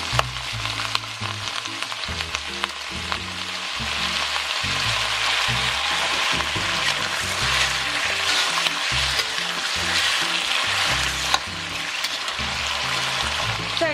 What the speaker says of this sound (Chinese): 煸炒海参